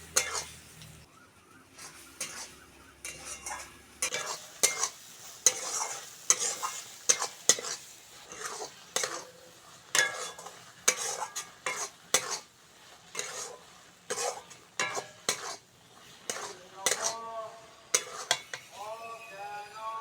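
Prawns frying with spice masala in a pan for potol chingri, stirred briskly with a metal utensil; repeated sharp scraping strokes over a soft sizzle, close and fairly rhythmic, with a brief murmur of voice near the end.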